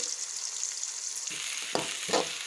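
Chopped onion and capsicum frying in a pan, a steady close hiss of sizzling with a few brief stirring scrapes toward the end.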